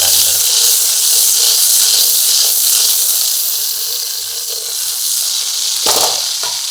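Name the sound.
mutton fat and onion frying in oil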